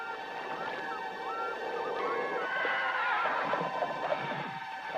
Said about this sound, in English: Some hear the sounds of ghostly horses hurtling up the stone stairs of a castle.